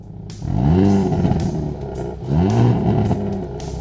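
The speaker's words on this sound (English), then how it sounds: "Plus, check out this exhaust. These tips are huge and sound pretty good too." A 2023 Hyundai Kona N performance crossover revs its engine through large exhaust tips, two loud nearby rising blips about two seconds apart that swell and fall back to a steady idle.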